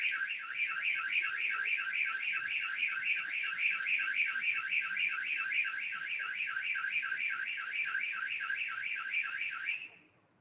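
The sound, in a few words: Dahua XVR SMD Plus detection alarm sounding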